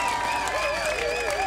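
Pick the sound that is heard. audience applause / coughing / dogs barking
audience applause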